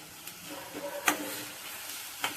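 Chopped tomato and onion frying in a pan, a soft sizzle with a few scraping stirs and clinks, fairly faint and close.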